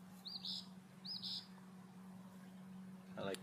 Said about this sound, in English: I like these birds. These birds are so vocal.